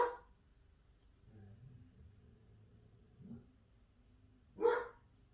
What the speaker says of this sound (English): he's been barking constantly because, you know, so many packages being delivered and stuff.